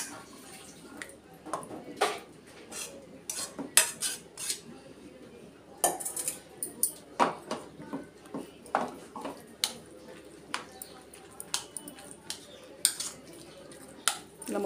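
Mashed food stirred with curd in a vessel, with repeated scraping and clinking of a spoon against the pot at an uneven pace, close and moderately loud over low background noise.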